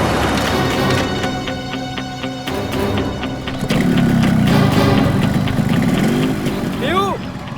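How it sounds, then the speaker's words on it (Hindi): A motorbike engine starts and settles into a steady idle, loud and close, with a tonal whine earlier and a rising rumble after the start. "बाइक स्टार्ट हो गई"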